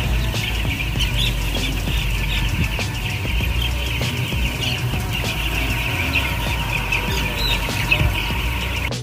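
Chickens in a poultry house on a clear day make a dense, continuous chorus of squawks and clucks, loud and close, over a steady mechanical hum.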